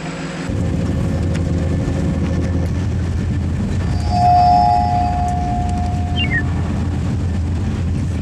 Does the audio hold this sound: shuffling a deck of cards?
no